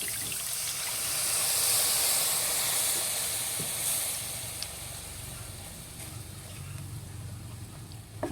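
Water poured into a hot pan while cooking fried chicken, a loud continuous sizzling hiss that swells early and then gradually settles, with a few faint clinks near the end.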